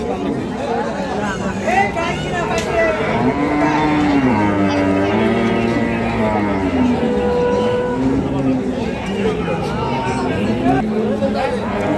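Dairy cows, improved-breed milking cows with calves, low mooing at a busy rural cattle market in Dinajpur, lowing repeatedly amid steady crowd chatter and people talking nearby.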